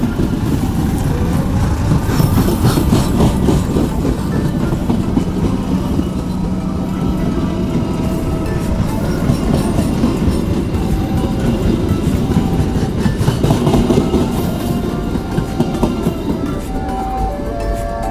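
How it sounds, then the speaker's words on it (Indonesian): A passenger train rolls steadily past close by in Pekalongan, with a loud continuous rumble of engine and wheels and some rhythmic clatter throughout. "Wah, ini baru kereta penumpang."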